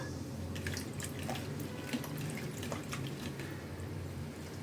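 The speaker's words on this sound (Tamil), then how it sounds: "நல்லா 2 தண்ணி விட்டு அலசிக்கிங்க நல்லா" Pirandai (adamant creeper) stems being rinsed in water, a steady close wash of splashing and dripping water without any talk.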